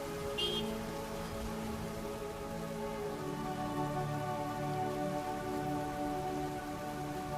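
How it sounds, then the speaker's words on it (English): Steady rain falling throughout a dramatic scene, a dense continuous patter with a low rumbling undertone, fairly loud and unbroken, with no talking. "I hate walking in sandals in the rain."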